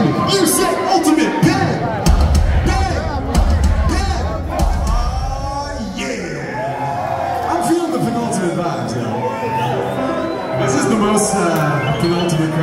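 Concert crowd at a show, a loud mass of cheering, whooping and shouted voices answering a call, with heavy crowd roar building midway and staying dense throughout.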